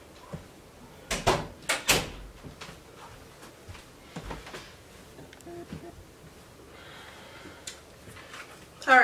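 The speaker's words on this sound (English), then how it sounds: "I'll open the bathroom door for you." A bathroom door is opened nearby with a cluster of sharp clunks and bumps from the handle and frame, then quieter scattered knocks, with some faint vocal sounds in the background.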